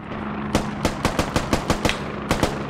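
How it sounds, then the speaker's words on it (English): Rapid bursts of rifle fire crack out in the military shooter Squad, about a dozen sharp close shots in quick uneven clusters over a low steady hum, with no talking. "Everyone online, try to return fire on the tracer origin."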